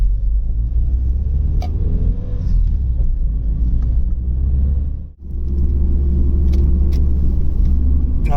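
A Vauxhall Cavalier CD 2.0 16v drives steadily along a road under a 20 mph limit in West Lothian, with a constant low engine and tyre rumble that dips briefly to near silence about halfway through before resuming at the same level.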